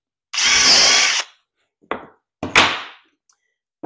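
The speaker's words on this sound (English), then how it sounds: "get these drilled in here" A power drill drives screws into a wooden cabinet for a cordless drill storage unit, one long whirring burst followed by two short bursts with brief pauses, close and loud, no speech.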